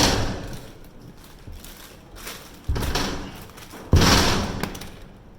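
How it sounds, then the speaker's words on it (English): A heavy door in an old slave dungeon in Ghana swings shut with two loud, echoing thuds, the second one harder, each ringing out into the stone room. "Let me close the door."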